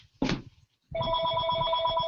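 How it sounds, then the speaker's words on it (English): A telephone rings with a steady, bright electronic trill that starts after a short muffled knock and carries on unbroken, moderately loud, in an indoor room. "I've got the phone ringing"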